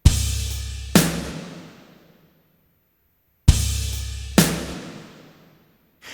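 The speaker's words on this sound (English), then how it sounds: "I'll play it one more time, just the reverb tail" A snare drum is processed through a Motu plate reverb plugin, producing sharp hits that each bloom into a long, smoothly decaying plate-reverb tail, repeated twice with silence between.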